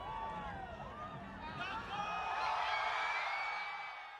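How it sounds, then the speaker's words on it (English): Festival crowd at EDC reacting with a rolling wave of cheers, whoops and babble, swelling louder midway and fading, with voices mixed throughout. "Listen to the crowd reaction."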